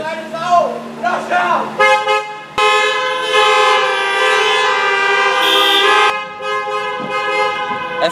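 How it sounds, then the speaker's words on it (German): Several car horns toot in long sustained blasts outside the ESL One Cologne 2015 esports event, loud and overlapping, with people's voices chattering at the start. "Hupen!"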